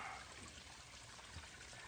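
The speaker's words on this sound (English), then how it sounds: "this sounds to me like a babbling brook." A babbling brook on Black Rock Mountain flows in a steady, continuous rush and trickle of water, even and unbroken throughout, with no voices.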